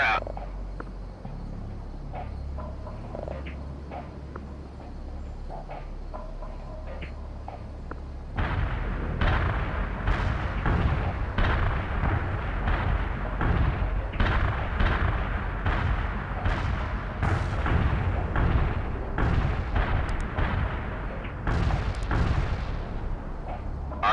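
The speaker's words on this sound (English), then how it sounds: "Artillery strike delivered." Artillery strike explosions from the video game World in Conflict, heard as a quiet low rumble that gives way to a dense barrage of repeated loud booms and blasts.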